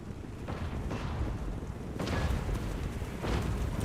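Cannons fire in a Warhammer-style video game battle: several deep, booming blasts land at irregular intervals over a constant rumbling din of combat, fairly loud and without talk.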